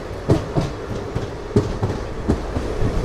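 A Tirupati to Coimbatore Intercity Express runs along the track, its wheels thudding in a steady clickety-clack rhythm over a continuous low rumble, heard from inside the moving train.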